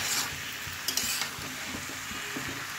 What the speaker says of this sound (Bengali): প্রথমে আমি একটু কষাবো, আগে জল দেবো না, একটু কষিয়ে লাউ থেকে একটু জল বেরোবে